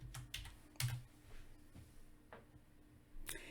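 Quiet, sparse keystrokes on a computer keyboard come as a few separate taps and short bursts against a soft background hum.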